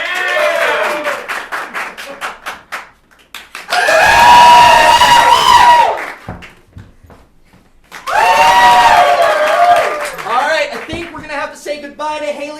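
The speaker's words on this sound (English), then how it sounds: "applaud for the ones you want to keep" Audience at an improv showcase claps in two loud, sustained bursts to vote for groups, each separated by a host talking, with laughter and cheering mixed into the applause.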